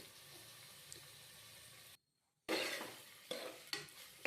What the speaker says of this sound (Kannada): ಎರಡನ್ನೂ ಹಾಕ್ಕೊಂಡು ಈ ತರಕಾರಿನೂ ಫ್ರೈ ಮಾಡ್ಕೊಳ್ಳೋಣ.